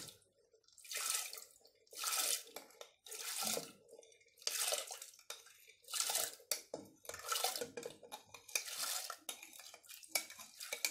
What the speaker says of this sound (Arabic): نديروا العدس ديالنا مع الماء.